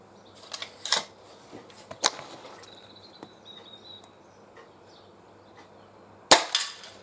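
A Benjamin Trail NP Mk2 air pistol fires outdoors at cans, sharp snapping cracks with a few fainter clicks, then a loud shot near the end. Insects chirp faintly in the quiet background.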